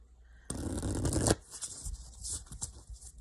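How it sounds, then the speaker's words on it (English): A quick burst of oracle cards being riffled and shuffled, close and crisp, followed by softer handling and light tapping of the deck. "let's go ahead and let me shuffle"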